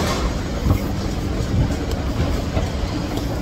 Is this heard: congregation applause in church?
no